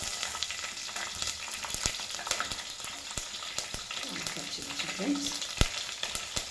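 Four green chillies drop into hot oil already holding cloves, cinnamon, cardamom and shahi jeera, giving a continuous crackling sizzle with stirring clinks while someone speaks briefly.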